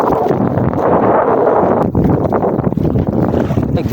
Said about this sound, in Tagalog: Nagsasabong yung alon.